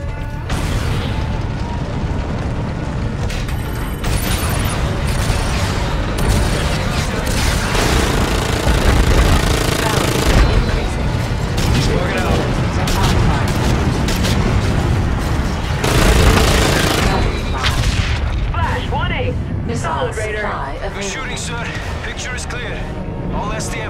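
Missile launches and gunfire in the shooter game Call of Duty: Infinite Warfare, during an aerial combat fight: loud, dense booms and bursts rumble continuously with sharper blasts, under radio chatter from game characters.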